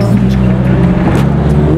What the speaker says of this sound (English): Ferrari, right there.